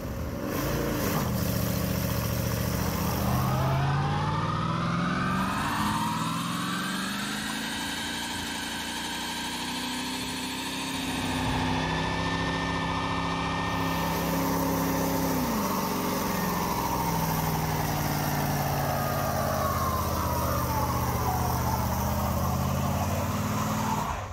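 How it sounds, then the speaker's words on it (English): Car engine revving hard during burnouts on a stripped-down chassis build, a loud, continuous roar that sweeps up and down in pitch across several long pulls, with a steady grinding undertone throughout. "With burnouts achieved"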